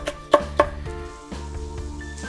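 A knife cuts through a chili pepper on a board to remove the seeds, giving two crisp, close taps in quick succession over a steady tonal background.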